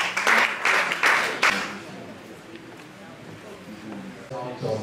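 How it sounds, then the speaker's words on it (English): Short burst of clapping from a small audience at a tech fellows graduation, loud for about a second and a half before dying away into quiet room noise. "A round of applause to him."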